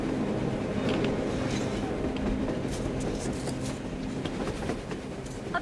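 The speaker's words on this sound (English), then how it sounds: "A train! A damn train on the surface!" A train passing on the surface in the Metro video game, a steady rumbling rail roar with faint clattering and squeals that holds at a fairly loud, even level throughout, with no talk over it.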